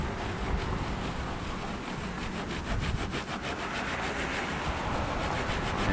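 A towel is rubbed by hand across diamond plate to buff off black residue, giving a continuous, close scrubbing and rasping sound with a faint rhythmic back-and-forth pattern throughout.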